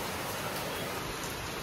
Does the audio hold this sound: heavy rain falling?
yes